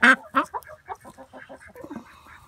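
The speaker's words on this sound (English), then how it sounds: "I'm surprised that she's scared of the chickens." Backyard chickens clucking close by, a loud opening squawk followed by a rapid run of short clucks fading into softer murmuring calls.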